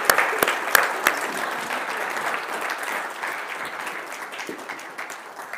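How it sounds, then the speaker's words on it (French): An audience at a French hypnosis stage conference applauds the volunteers, a dense, steady burst of clapping from a room full of people that starts strong with a few sharp claps and slowly eases off. "Merci beaucoup, on peut les applaudir,"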